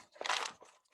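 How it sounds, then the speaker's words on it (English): A crinkly poke and tear through a sheet of aluminum foil at a community art night sounds as one short, close crackle that fades to a soft rustle. "I'll poke through the aluminum foil."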